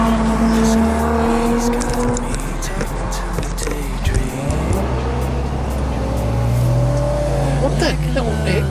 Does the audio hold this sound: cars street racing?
yes